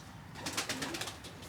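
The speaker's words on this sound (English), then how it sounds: "He's a lovely wee pigeon" A Roller pigeon, a Johnson cross, coos softly a few times at close range during handling after vaccination, in short low rhythmic bursts.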